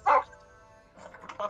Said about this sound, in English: Can't tell if that's the dog or if that's, Mems.